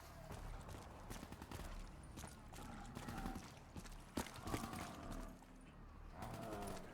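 Gunfire in Black Ops III, a rapid clatter of shots and mechanical clicks mixed with sharp impacts, moderately loud and continuous over a busy game background.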